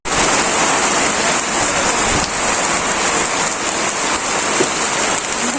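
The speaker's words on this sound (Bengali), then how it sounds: "প্রচন্ড ঝড় বৃষ্টির মধ্যে অন্ধকারে কাজ করতেছে" Heavy rain pours down without pause in a village storm, a dense, loud roar of drops beating on surfaces close by.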